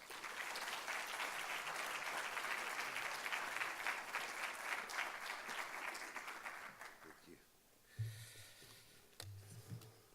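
Audience applause at a university lecture welcoming a guest professor, a dense steady clapping from a large crowd that fades out after several seconds, followed by a few isolated thumps and handling noises.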